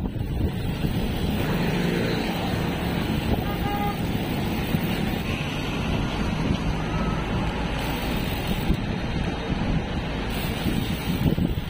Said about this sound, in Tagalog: Lakas ang hangin oh